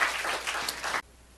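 A church congregation applauds together during a Sunday service, a dense steady wash of clapping that stops abruptly after about a second, leaving quiet room tone.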